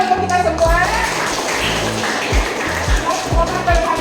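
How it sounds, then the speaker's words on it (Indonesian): Schoolchildren in a classroom clap together, a loud, fairly close burst of applause with rhythmic claps and a few sharp taps, while an adult voice talks over it. "tepuk tangan untuk kita semua"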